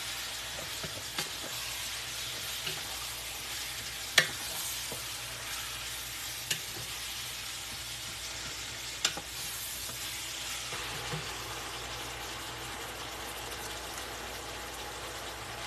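Ground beef seasoned with chili powder, cumin, adobo and black pepper frying in a pan, a quiet continuous sizzle with a few faint clicks of stirring, no talk.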